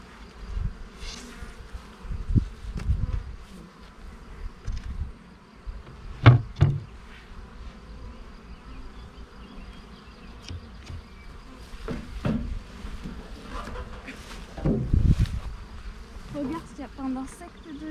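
Honey bees buzz steadily around a beehive during a spring inspection. The hum is continuous and close, broken by a few louder passes and light knocks as the hive cover is handled, with faint voices at times.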